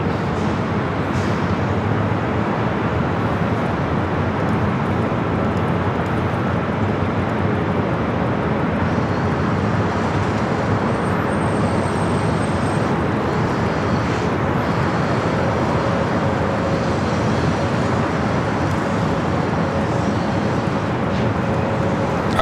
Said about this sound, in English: Turkish Airlines, the A350-900, heading back to Istanbul. Flight 180 heading up here for a north side takeoff